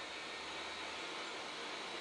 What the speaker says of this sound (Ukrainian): Потім беремо фен і починаємо їх